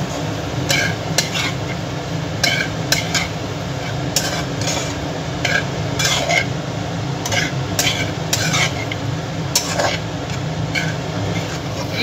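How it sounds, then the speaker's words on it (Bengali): A spoon stirs banana flower and potato with spices in a pan, giving close, steady scraping and sizzling with sharp utensil clicks against the metal at irregular intervals. "এইভাবে মশলাটা কিছুক্ষণ কষার পর যখন মোচা আর আলুর গায়ে মশলাটা লেগে যাবে"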